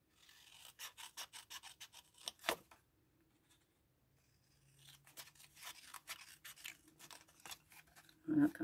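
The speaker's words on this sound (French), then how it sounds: "Et on coupe les languettes." Scissors snipping paper tabs for an Easter basket craft: a run of quick, crisp close cuts, a pause, then another series of snips, with faint rustling and a soft voice now and then.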